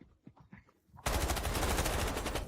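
Rapid automatic gunfire erupts in the Delta Force shooter game after a quiet stretch of softer thuds, then continues as a loud, dense stream of shots with no talking.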